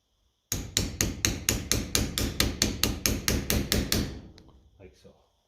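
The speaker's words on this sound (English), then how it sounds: "We'll tap that on another little bit." A hammer tapping a socket onto a part of a 1955 Ferguson TED 20 TVO tractor, about fourteen sharp metallic strikes in a steady rhythm that fade slightly toward the end, close and loud, with no talk.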